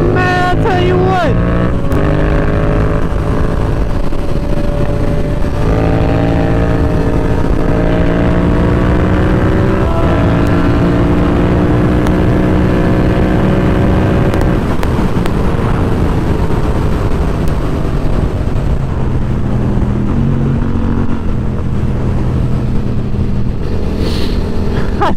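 Motorcycle engine on a racetrack, a GSX-R750 or FZ-07, loud and close as it accelerates, pitch climbing in steps through upshifts into fifth gear, with a voice speaking over the engine at moments.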